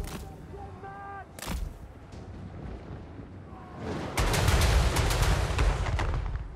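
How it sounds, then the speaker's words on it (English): Artillery barrages thunder across a Total War Warhammer 3 battlefield, loud booming blasts stacking into a dense, continuous roar of impacts in the second half after a couple of sharp early shots, with no voices present. "They have some weird artillery stuff going on"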